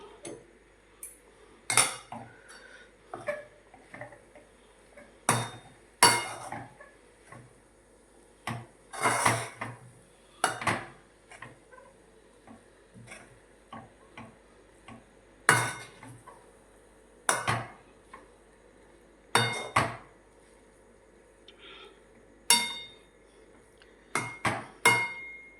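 A spoon scrapes and clinks against a pan while batata poha is mixed, giving sharp irregular metallic taps and scrapes spaced through a quiet kitchen.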